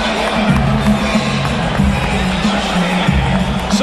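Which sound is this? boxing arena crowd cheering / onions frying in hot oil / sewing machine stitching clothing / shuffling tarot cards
boxing arena crowd cheering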